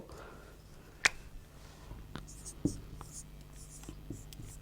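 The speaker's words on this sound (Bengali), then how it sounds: "আমরা লিখে নেব" A pen writes on paper during an English class lesson, giving soft, close scratching strokes with a few sharper taps and ticks spread across the moment, while a faint murmur sits in the background.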